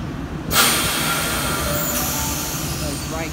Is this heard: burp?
no